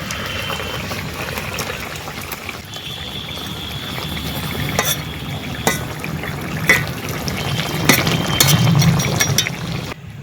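Fried rui fish pieces added to soft, boiled eggplant cooking in a pot, with a continuous bubbling simmer, scattered clinks of a utensil against metal and a few soft plops, close by with no talking.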